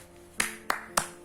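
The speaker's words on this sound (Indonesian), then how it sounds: "Ada musik yang dibuat dengan tepuk tangan" Three sharp hand claps, evenly spaced and close, each a crisp single slap with a short ring-off in a quiet room.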